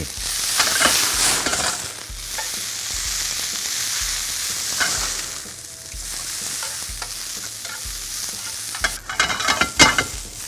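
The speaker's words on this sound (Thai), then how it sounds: "น้ำมันลงไปครับ เพื่อที่จะผัดผักบุ้งครับ" Water spinach sizzles and crackles loudly in oil in a hot wok, with steady frying hiss and rhythmic scraping as it is stirred and tossed.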